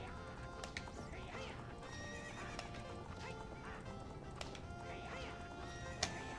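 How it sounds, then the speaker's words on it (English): Epona, a horse in a Zelda video game, whinnies repeatedly over steady galloping hoofbeats and game background sound, with occasional sharp clicks and one louder accent near the end. "Yeah, we got Epona. We own a horse."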